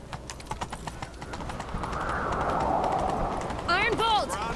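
Horse hooves clatter in a rhythmic, swelling gallop in The Witcher 3: Wild Hunt, with a faint neigh-like call near the end and speech from the game's characters throughout.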